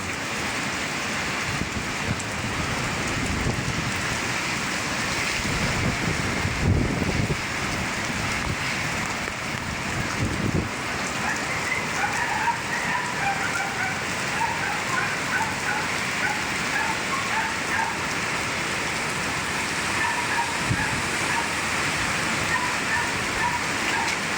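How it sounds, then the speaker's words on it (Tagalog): Heavy super typhoon rain pours steadily in a dense roar in Iriga City, Philippines, with gusty wind surging through it and occasional louder bursts, continuing without a pause. "malakas malakas po yung super typhoon o"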